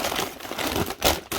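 A soft, clay-like aquascape rock is crumbled and broken at its edge for a small 30 cm cube aquarium layout, giving dense gritty crunching and crackling, close up and continuous with a brief pause near the end.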